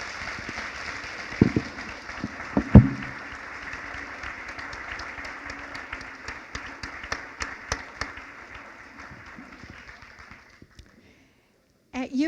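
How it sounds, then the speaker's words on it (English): Audience applause at a University of Iowa REACH convocation honoring student speakers, a broad sustained wash of clapping with a few louder close claps, fading out toward the end. "Please join me in another round of applause for our student speakers."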